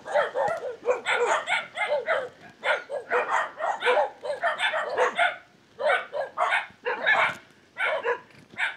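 Several dogs bark repeatedly nearby along a rural road during a bike ride, rapid overlapping yips and barks in quick bursts with brief pauses, loud and close.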